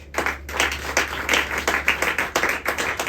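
A church congregation at a women's worship service applauding together, dense continuous clapping with rhythmic swells for about three seconds, loud and close.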